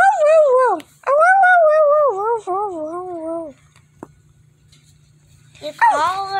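A dog whimpers in long, wavering, high-pitched whines broken by a sharp yip. After a short quiet pause, a final burst of whining is heard close by.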